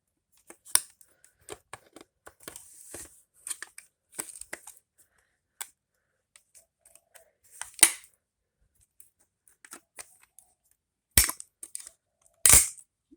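Cutting the plastic stock off an X-Shot Vigilante 2.0 toy blaster: sparse sharp snips, cracks and clicks spaced irregularly across a quiet background, with two louder snaps near the end.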